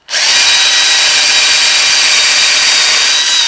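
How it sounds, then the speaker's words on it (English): Power drill boring holes into pine wood, a loud, close, continuous high whine that starts abruptly and holds steady without pause. "So what I'll do is I'll take and drill"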